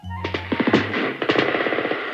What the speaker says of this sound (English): with 40 well-placed cannons, the young Bonaparte crushed the final hopes of the royalists